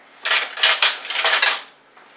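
A small knife and cutlery clink and rattle against dishes while reaching for butter in a kitchen for gluten-free pancakes, several close metallic bursts in a quick cluster.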